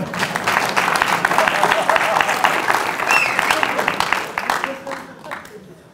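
An audience at a memorial gathering applauds: dense, sustained clapping that continues steadily and then tapers off near the end.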